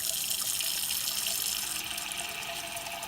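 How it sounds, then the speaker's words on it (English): Tap water runs steadily into a cooking pot for ramen, a continuous close rushing and splashing with no pauses or voices. "Then, fill the pot full of water."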